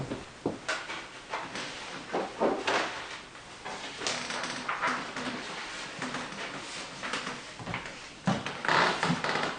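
Drawers being pulled open and pushed shut in an archive room at a religious mother house, giving a series of wooden knocks and sliding scrapes with a dull room tone and no talk.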